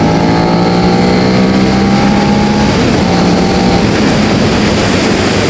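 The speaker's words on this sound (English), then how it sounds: "the engine does sound nice. It has got a nice raspiness to it." A Suzuki SV650 motorcycle engine while riding, a loud continuous raspy drone with a slight pitch sweep as revs change, close up and mixed with heavy wind rush, no talk.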